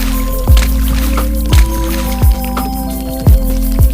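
Pebbles drop one by one into a pot of water, each giving a loud close plop and gurgle, about five drops spaced irregularly across a few seconds with a faint background hum.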